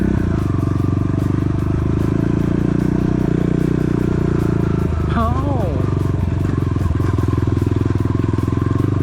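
An off-road motorcycle drones loudly along a jungle trail, its engine hum constant and close, with a brief rising rev midway and someone speaking over it.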